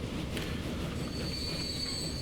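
A train rolls along the tracks in the railway simulation game Transport Fever, a steady low rumble with a thin high wheel squeal rising partway through, heard alone at moderate level.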